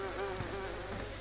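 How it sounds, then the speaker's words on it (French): Flies buzz in the video game DayZ, a steady, close insect drone with a wavering pitch that holds throughout without any talk. "j'entends des mouches, moi aussi."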